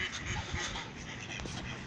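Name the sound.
mallard ducks quacking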